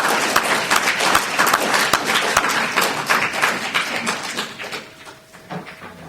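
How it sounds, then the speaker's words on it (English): Applause from a conference audience: steady, dense clapping from many hands that fills the room, then thins and fades toward the end, with no talking over it. "clap your hands"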